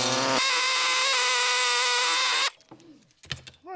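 A power cutting tool slices through the rust-repaired metal rear window channel of a Mercedes W126, a loud steady high whine for about two seconds before stopping, followed by faint clicks and handling noises.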